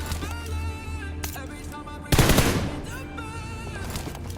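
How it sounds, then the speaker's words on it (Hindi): Automatic gunfire in the battle-royale video game PUBG, a loud dense burst of rapid shots partway through, over faint game ambience and background music. "अब इधर से भी फायरिंग आई थी"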